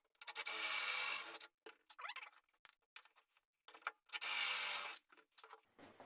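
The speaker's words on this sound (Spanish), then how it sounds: "lo dejamos ajustado como lo teníamos y hacemos el agujero" A Wolfcraft dowel jig guides a drill boring a dowel hole into clamped wood, two sustained bursts of close, loud whirring each lasting about a second, separated by quieter scraping and handling knocks.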